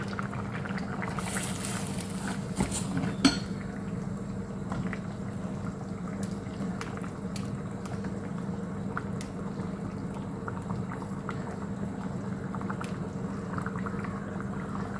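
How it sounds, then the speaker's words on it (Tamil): A pot of ridge gourd and egg curry bubbles and simmers steadily nearby, a continuous soft boiling with occasional small pops and clinks. "குழம்பு நல்லா கொதிக்குது"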